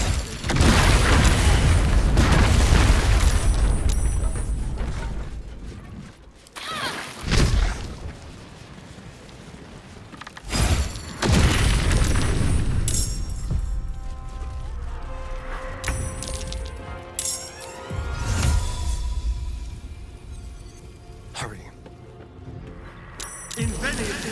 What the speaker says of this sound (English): So here's the fireworks and then combat.